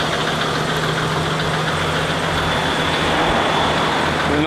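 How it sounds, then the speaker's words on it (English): A brand new four-wheel drive's engine idles steadily with a low, even purr, a continuous near rumble with no pauses and no talking. "And a nice purr of a brand new engine there."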